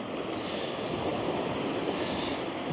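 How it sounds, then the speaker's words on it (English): Very small waves break on the rocks at Portland Bill on a foggy day, making a steady, soft rushing wash with no distinct breaks. Light wind noise runs underneath. "just down below me I've got the very small waves breaking on the rocks"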